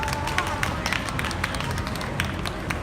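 Audience clapping heartily to welcome a speaker at a Daegu citizens' candlelight rally, steady crowd applause with sharp claps standing out above a busy hum of the gathering.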